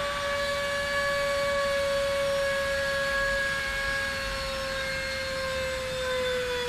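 Amazon cordless air duster running steadily in suction mode, a loud continuous high-pitched motor whine with a slowly drifting tone, close up and alone for the whole stretch.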